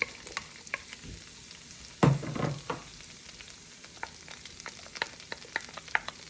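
Onions sauté in half a stick of melted butter in a pan, a close sizzling hiss broken by stirring scrapes and sharp utensil taps, with a louder burst as they go in.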